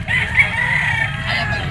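An Ormoc Gold sweater gamefowl rooster, yellow-legged and about three years old, crows loudly and close by in one drawn-out, strained call lasting under two seconds.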